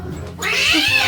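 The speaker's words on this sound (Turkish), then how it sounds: "Ay kedi sesi de geliyor." Cat letting out a drawn-out, strained meow that rises sharply after a brief quiet moment and holds close and loud.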